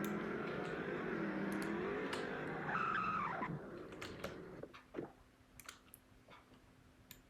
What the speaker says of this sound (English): you can spin, you can drift and stuff with this car